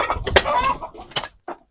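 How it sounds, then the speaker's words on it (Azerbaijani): Village chickens cluck in short, uneven bursts at close range, with brief pauses between calls. "Qardaş, toyuqlarımız da var"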